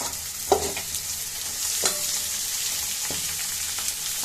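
Eggplant pieces coated in salt and turmeric fry in a hot pan, a steady close sizzle with a few sharp clinks and stirring knocks.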